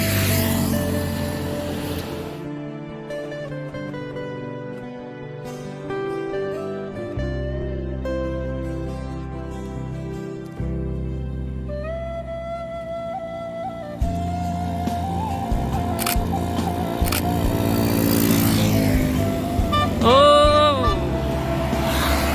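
A Gumarang Jaya bus with jetliner bodywork and a Hino engine, bound for Jakarta, sounding steady and close with its engine droning, melodic horn notes playing over it and a louder surge of passing traffic toward the end.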